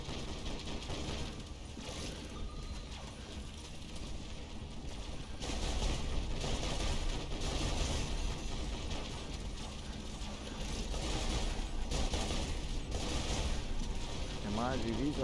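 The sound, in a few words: gunfire from Sky Tech units in a video game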